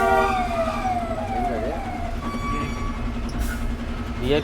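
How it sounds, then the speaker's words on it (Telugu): Wailing siren from a VIP government vehicle passing on a highway, rising and falling tones sounding fairly close and loud over steady road and engine rumble. "విఐపి ఎమ్మెల్యేలు ఎంపీలు వాళ్ళకి సంబంధించిన వెహికల్స్ వస్తే సైరన్ వేస్తారు"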